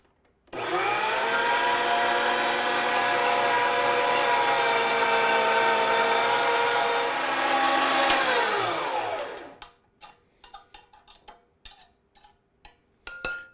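An electric meat grinder works through beef for burgers, a loud steady motor drone running for about nine seconds before cutting off, followed by scattered clicks and light handling taps.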